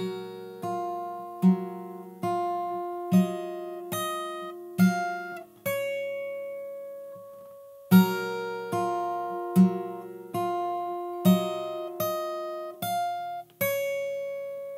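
Fingerstyle acoustic guitar picks one bar of a song as an easy arrangement, with steady plucked notes and bass thumps repeating in an even rhythm, close and clear with no talking.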